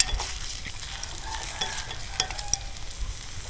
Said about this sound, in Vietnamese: cho hành với tỏi vô mình phi